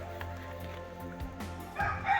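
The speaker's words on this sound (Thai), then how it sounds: "มีไก่มาขัน" A rooster crows somewhere in the background while a laptop repair goes on, the call rising over low steady room noise and a faint hum, then swelling louder near the end of the short stretch.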